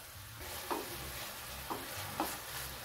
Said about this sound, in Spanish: vamos a dejar que se sofría ahí un par de minutos